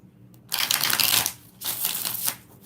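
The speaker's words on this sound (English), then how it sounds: "7 shuffles" A deck of tarot cards gets shuffled by hand in two quick riffling bursts, close and crisp, with a short pause between them.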